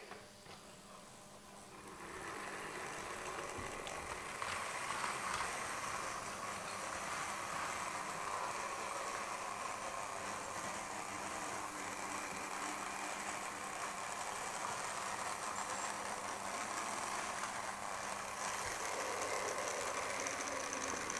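The weak motor of an over-40-year-old East German H0 model locomotive runs steadily with a buzzing, slightly rattly hum, starting up after a quieter moment and holding an even level throughout.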